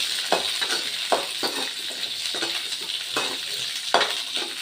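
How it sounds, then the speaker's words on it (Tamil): Garlic and onion sauté in a pan with a steady bright sizzle, while a utensil stirs and scrapes in a regular rhythm of soft strokes. "வெங்காயத்தையும் கூட சேர்த்து வதக்கலாம்."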